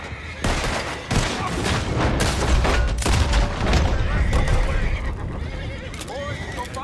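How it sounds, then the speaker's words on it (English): Horses whinny and neigh loudly amid bursts of gunfire and booms during a boat shootout in the Red Dead Redemption 2 video game, with hoof clatter and voices talking over the chaotic mix. "Those horses down below."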